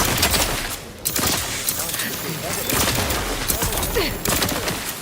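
Rapid, dense gunfire crackles nonstop in the Outer Worlds 2 video game, loud and chaotic with bursts of shots layered over other effects, while a voice speaks through part of it.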